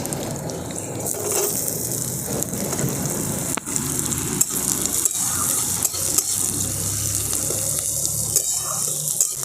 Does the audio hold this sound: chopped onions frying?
yes